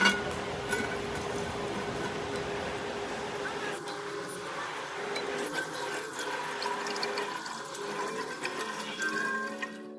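Water pours steadily from an airport hot and cold water dispenser in a busy terminal, a continuous rushing stream heard up close with background hum throughout.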